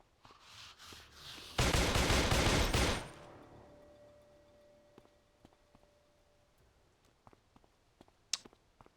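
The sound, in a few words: gunfire shooting zombies in a video game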